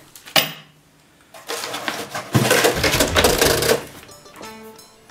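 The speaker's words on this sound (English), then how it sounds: "A bag of bolts and nuts." Small steel bolts and nuts clatter in a bag while the parts of a Wabeco BF1242 drill milling stand are unboxed. One sharp metallic knock is followed by a longer burst of jangling and rattling, close and fairly loud.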